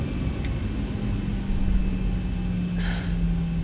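A simulated Boeing 737-800 in X-Plane 11 begins to taxi, giving a steady low engine rumble with a faint sustained hum and a brief soft whoosh near the end, with no talking.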